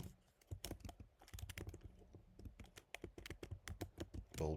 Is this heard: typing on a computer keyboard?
yes